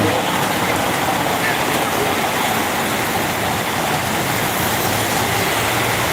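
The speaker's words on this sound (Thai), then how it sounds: "ถ่ายทอดสดฝนตกให้ พี่น้องได้ชมกัน" Steady, heavy rain pours down continuously in Phu Khiao, Chaiyaphum, Thailand, a dense broadband hiss with no break, close and loud throughout.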